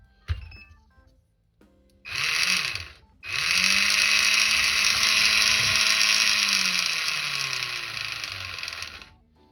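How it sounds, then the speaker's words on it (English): The small electric motor of a Maisto F1 remote-control car whirs up in a high, buzzy whine. A short burst comes first, then a sustained run that rises and eases in pitch before cutting off, close and loud. "we have drive from the battery to the motor, we have steering"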